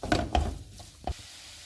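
A spoon stirs and scrapes fig halwa with sugar as it roasts in a pan, a few loud rubbing scrapes and soft sizzling up close, then quieter stirring with one more scrape near the end.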